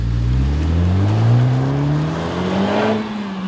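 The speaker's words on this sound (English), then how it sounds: "You can hear it. Yeah, rev matching." Honda Civic Type R engine revving through a rev-matched downshift, a close, steady rising and falling drone with harmonics sweeping upward over about three seconds, no talk.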